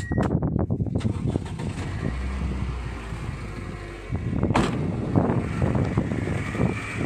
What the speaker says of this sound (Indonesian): Ini posisi mesinnya sudah nyala